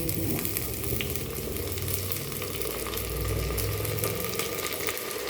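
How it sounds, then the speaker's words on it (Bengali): Spices fry in a pan with reddish browned onions, giving a dense, steady sizzle close by that carries on unbroken with faint stirring scrapes and no talk. "এই যে পেঁয়াজটা অনেকটা লাল লাল ভাজা হয়ে গেছে, এরপর মশলাটা এর মধ্যে দিয়ে দেবো।"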